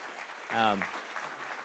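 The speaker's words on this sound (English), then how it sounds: "give us a round of applause for Christy Rutherford" An audience applauds for an honored speaker, light clapping behind a brief spoken voice, steady and fairly quiet throughout.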